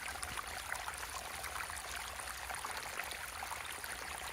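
Clean water flows steadily from a pipeline in a dry setting, making a continuous rushing, trickling wash that stays even and close throughout with no pauses.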